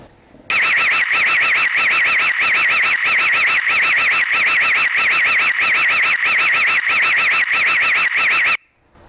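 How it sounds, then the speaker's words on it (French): A loud, piercing electronic siren from an Imou Versa indoor/outdoor security camera warbles rapidly and steadily with a pulsing beat, running continuously for about eight seconds before cutting off abruptly. "maintenant j'ai activé l'alarme"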